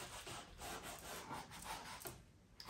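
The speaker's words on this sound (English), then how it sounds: "Almost scuffing my brush here. It's almost a dry brush with very little on." A nearly dry paintbrush carrying very little paint scuffs across canvas, giving soft, quiet rasping strokes in loose, uneven repetitions close by, with no voices.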